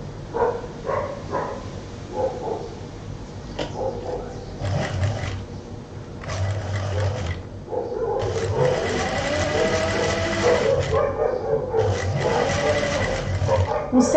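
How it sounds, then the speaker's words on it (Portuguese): A sewing machine stitches folded fabric over a small blanket while sewing a fish-shaped backpack, running in steady whirring bursts that stop and restart, with longer continuous runs toward the end. "A mantinha embaixo e eu vou começar a costurar aqui, vou terminar aqui, retrocedendo sempre começo e fim."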